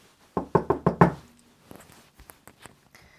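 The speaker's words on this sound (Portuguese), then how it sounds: "sabe quem bate na sua porta?" Five firm knocks strike a door in quick even rhythm, close and resonant, followed by softer scattered taps and shuffling sounds with no talking.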